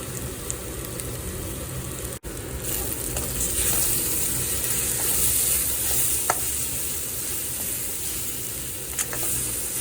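Ginger, garlic and chili paste sautéing in a pan for chicken drumstick biryani, a steady close sizzle with scraping stirs and a couple of sharp utensil clicks, no talking.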